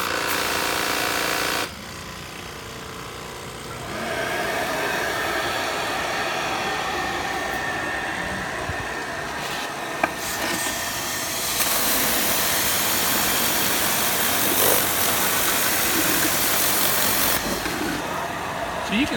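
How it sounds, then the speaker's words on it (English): A handheld grout and tile wall cleaning tool runs with its water and vacuum switched on, giving a steady loud whooshing, roaring wash of noise throughout, with a brief drop in level early on. "So I'll go ahead and turn on the water and the vacuum."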